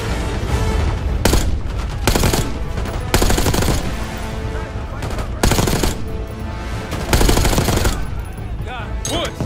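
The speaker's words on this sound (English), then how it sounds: "Give us some cover fire." Heavy automatic gunfire and booming blasts in Call of Duty: Black Ops 6 during a mission firefight, loud sustained bursts broken by brief pauses, with voices shouting underneath.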